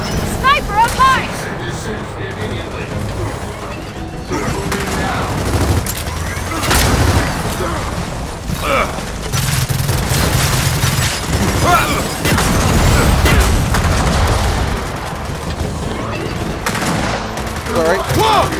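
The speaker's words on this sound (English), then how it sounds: "Don't run in front of me when I'm shooting, like I'm actively shooting a gun." Gunfire in the video game Gears of War 4 during a firefight, with continuous bursts of automatic shots and booming impacts filling the clip, loud and dense, while a player talks over parts of it.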